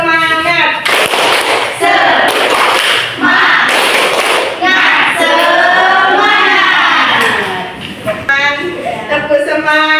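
In a classroom, students do a rhythmic clapping routine, with patterned bursts of claps and thumps under loud group chanting and talk.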